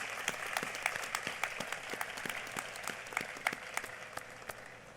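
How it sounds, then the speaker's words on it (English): Audience applause welcoming a new rabbi at a college opening convocation, steady dense clapping from a sizeable crowd, moderately distant and sustained throughout without voices. "everyone please give her a round of applause for joining our community"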